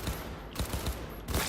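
Enemy gunfire in the video game Cyberpunk 2077: sustained, dense volleys of automatic shots crackling continuously, with heavier bursts around the middle and end, loud and close with no talking.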